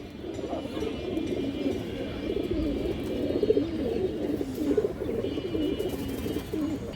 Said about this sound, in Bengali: এই দেখেন মাদিটা দর্শক, কাজলা গিয়ারের চায়না খাকি মাদি